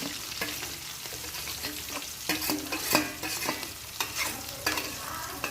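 Chopped onions and green chilies sauté in hot oil with asafoetida in a pan, a steady close sizzle broken by repeated scraping stirs and a few sharper spatula knocks, no voices.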